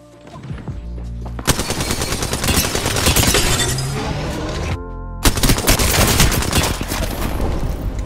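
Video game gunfire in rapid automatic bursts, loud and close, with a brief lull midway before the shooting resumes just as intensely.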